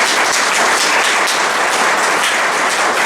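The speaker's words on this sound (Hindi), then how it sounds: "एक बार जोरदार ताली हो जाए" A crowd at a celebration event in Amarkantak breaks into loud, dense applause, steady and sustained for the whole stretch with no voices standing out.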